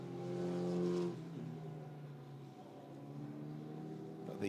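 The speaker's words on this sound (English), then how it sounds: "these Alpine 110 cars always look great fun to drive" Alpine A110 race cars lap the Hockenheimring during a 2019 Alpine Elf Europa Cup race, their engines swelling to a brief roar before settling into a steady, moderately distant drone.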